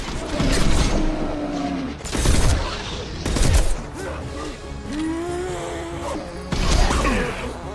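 Heavy gunfire and explosive blasts from a Mass Effect 2 firefight, with loud bursts of shooting, booming impacts and whooshing weapon effects under voiced game dialogue.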